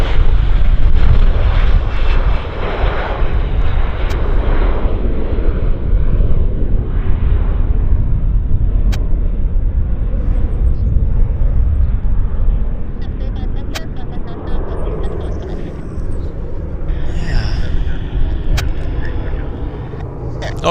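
A heavily fuelled airliner departs Vancouver for Salt Lake, its engines a loud, sustained roar that fades slightly as it climbs away.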